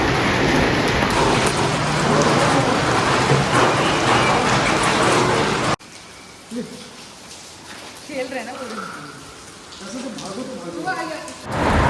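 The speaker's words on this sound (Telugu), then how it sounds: "Oh my god, it's raining" Heavy rain falling in Solang Valley, a loud, dense, steady roar that cuts off abruptly midway, after which fainter rain continues with people talking over it.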